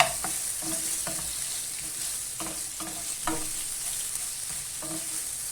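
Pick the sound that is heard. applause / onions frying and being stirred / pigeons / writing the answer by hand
onions frying and being stirred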